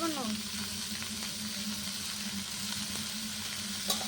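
Greens dropped into hot oil in a frying pan on a clay stove, giving a steady, close sizzle and frying hiss that carries through the whole stretch alongside a low background hum.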